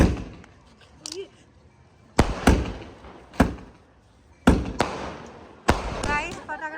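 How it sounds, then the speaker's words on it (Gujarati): Several firecrackers go off in sharp, loud bangs at irregular intervals during an Uttarayan kite-festival celebration, some in quick pairs, with voices chattering in between. "અહીંયા ફટાકડા હજી ચાલુ જ છે ફૂટવાના"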